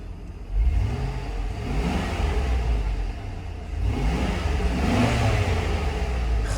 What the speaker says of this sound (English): Let's give it a little rev here. See how it sounds.